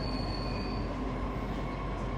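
A metro train in Saigon, Vietnam, rumbles loud and steady at close range, with a low continuous roar, faint wheel squeal and a thin high tone running through, and no talking.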